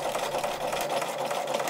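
A Bernina sewing machine stitches with a rapid, even mechanical chatter that sounds strained and laboured, running continuously and close up with no voices.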